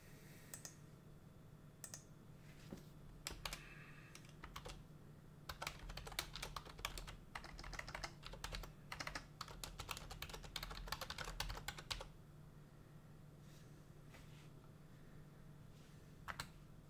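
Typing on a computer keyboard makes quick, close clicks and taps, sparse at first and then a dense burst of keystrokes before thinning out, over a faint steady hum.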